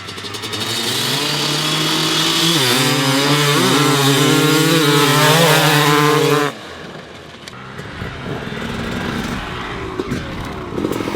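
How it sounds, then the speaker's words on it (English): A 2001 Kawasaki KX250 and a Honda CR250R, two-stroke motocross bikes, scream through a drag race with loud rising revs and gear changes, then the roar drops away abruptly into fainter, more distant engine noise. "let's get on with some drag racing"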